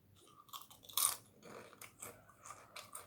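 Crisp bites into roasted papad, several sharp close crunches with one loud snap followed by chewing crackles, quiet surroundings and no talk.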